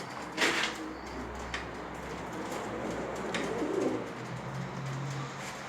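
Pigeons coo softly during courtship, with low murmuring calls and a few sharper rustles and wingbeats, heard close against a steady background hum.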